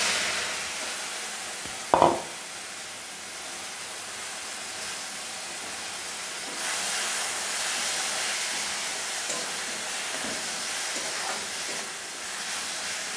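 Grated onion and black cumin seeds frying in oil in a pan, a steady, airy sizzle under one sharp clatter early on, the hiss swelling brighter and louder partway through and holding without talk.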